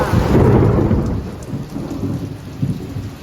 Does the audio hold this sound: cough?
no